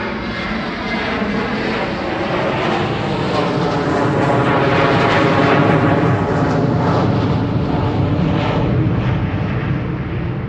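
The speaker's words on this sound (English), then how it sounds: "There's still a couple more here, different planes, but they're right over your head." Planes fly directly overhead, a loud continuous engine roar that swells toward the middle and eases slightly as they pass, with no talk.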